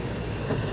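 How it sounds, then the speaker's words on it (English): Rain falls in the background as an even, hissing patter, brief and moderately loud with no speech. "y'all can hear the rain in the background"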